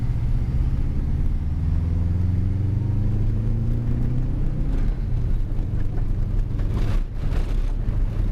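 A car laps a dirt track, its engine a loud, steady rumble that rises and falls through the revs while tires grind over loose dirt, close and continuous throughout.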